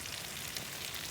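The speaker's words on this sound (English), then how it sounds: "Got some sausages in the pan with some tomato and onion and capsicum, and frying them in butter" Sausages with tomato, onion and capsicum fry in butter in a pan at a campsite, giving a soft, steady, hissing sizzle with no voices.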